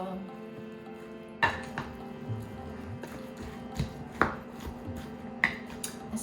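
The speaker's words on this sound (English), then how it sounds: "Okay, and then we'll really mix this up well." Stuffing with sausage, sage and fennel is mixed with salt, pepper and liquid aminos, producing a low background hum with a few sharp utensil taps and clinks against a pot or bowl at irregular intervals.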